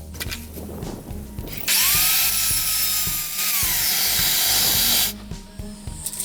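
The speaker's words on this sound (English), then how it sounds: "Then you make the cut using your miter saw." A miter saw whines as it cuts through a wooden slat, a loud sustained hissing roar lasting a few seconds with a rising then falling motor pitch, framed by the softer hum of the saw spinning up and down.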